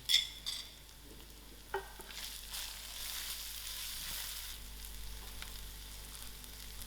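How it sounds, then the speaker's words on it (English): Mustard seeds, chili powder and coriander powder sizzle in hot oil in a pan for tomato rice, a soft steady frying crackle with a few sharp pops and stirring scrapes, close and alone. "there goes my mustard seed"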